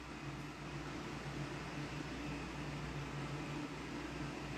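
Electric fan running steadily in a room at home, a constant low hum with airy broadband noise that holds even and unchanging throughout, with no voices over it.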